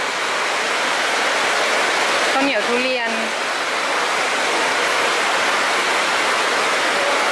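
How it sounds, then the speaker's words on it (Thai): Heavy rain at a floating market in Bangkok, a loud, steady hiss of downpour throughout with a brief spoken voice in the middle. "โหฝนตกหนักมาก"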